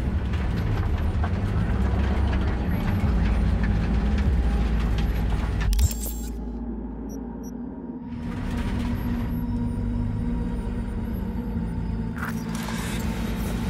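A train rumbles steadily in the Cyberpunk 2077 video game, a continuous mechanical clatter and drone that dips briefly in the middle before resuming.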